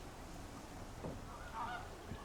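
A few distant greylag goose honks rise over steady outdoor background noise at a village lake in a wetland, one short call near the middle and another brief one toward the end.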